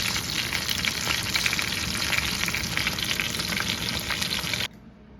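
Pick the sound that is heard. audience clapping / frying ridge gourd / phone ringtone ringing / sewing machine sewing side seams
frying ridge gourd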